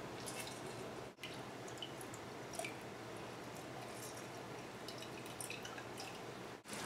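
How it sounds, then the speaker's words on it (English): A lemon half is squeezed by hand, and juice drips into a measuring cup with faint wet squishes and soft patters. The sound is quiet and close against a low room hiss. "So cut a lemon in half, and then just squeeze it into a measuring cup."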